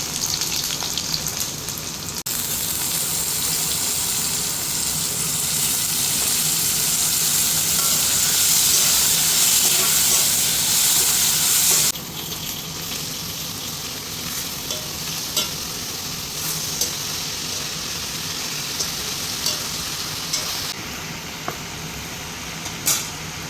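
Tomato and brinjal fry in a pan in a home kitchen, a steady loud sizzle with stirring scrapes, hissing hardest early on, then settling into a softer continuous crackle with occasional clinks, no talking.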